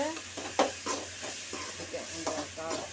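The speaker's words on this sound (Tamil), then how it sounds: "தக்காளி நல்லா வதங்கிடுச்சு." Tomatoes sauté in a kadai while being stirred, a close, steady sizzle and hiss with rhythmic scraping strokes of a spoon, with no one speaking.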